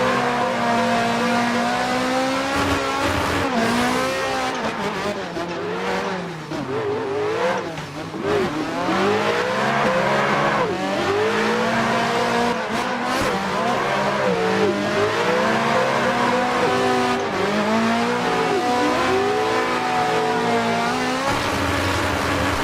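A car drifts in a racing sim on a MOZA R5 wheel setup, its engine revving and rising and falling with steady tire squeal throughout, loud and continuous.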